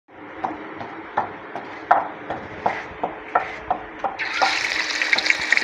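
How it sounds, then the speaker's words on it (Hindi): Chicken frying in a pan for a pumpkin and meat curry, with steady sizzling and regular stirring scrapes that turn into a louder, brighter hiss near the end. "चिकन को फ्राई करते हैं पहले,"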